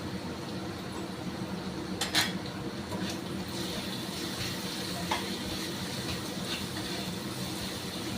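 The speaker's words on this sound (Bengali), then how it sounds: "নেড়ে ডালের সাথে মশলাগুলো নেড়ে নিলাম।" Spices are stirred into mung dal in a pan, a soft continuous scraping and low sizzle with a few louder clinks of the spoon against the pan, close and steady.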